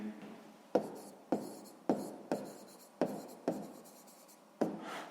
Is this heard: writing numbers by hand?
yes